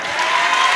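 A church congregation breaks into brief, steady applause at a worship service, a dense wash of clapping hands filling the space without pause.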